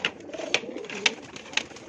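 Pigeons coo softly in a loft, a short run of close cooing calls with a few sharp clicks and wing or foot sounds between them.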